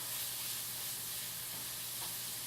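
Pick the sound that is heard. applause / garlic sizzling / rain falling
garlic sizzling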